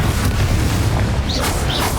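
A Confringo spell erupts in the Hogwarts Legacy video game as a loud, dense, sustained blast of fiery noise, with a couple of brief high whooshes near the end and no talk.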